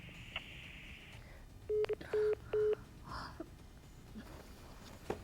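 A phone line goes dead after a call is cut off in a Haryanvi family drama, leaving three short, steady beeps of a disconnect tone in quick succession over faint background noise.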